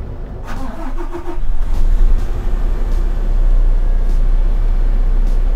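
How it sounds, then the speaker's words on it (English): A large Bell articulated dump truck starts up: starter cranking and a quick catch, then the diesel engine settles into a loud, steady low idle close by. "Now we press the green button to start the truck."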